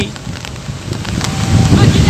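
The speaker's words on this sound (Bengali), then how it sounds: "অতএব বৃষ্টি শুরু হয়ে গেছে।" Rain falling on an open ground during a university inter-college football match, a steady broadband patter and hiss that swells toward the end, with voices faintly mixed in.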